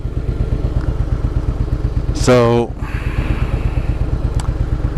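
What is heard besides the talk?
Harley-Davidson motorcycle engine running rough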